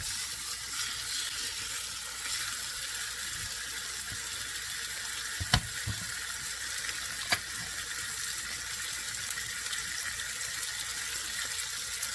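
Ribeye steaks sear in a hot cast iron pan with a steady, even sizzle and hiss that holds throughout, broken by a couple of brief sharp pops.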